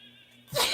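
A single close, sharp human sneeze with a breathy burst, preceded by a faint steady hum.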